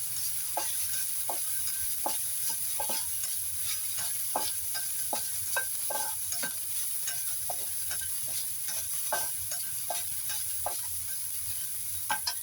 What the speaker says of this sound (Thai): ใส่โป๊ใส่ชายโป๊หวานเข้าไปผัด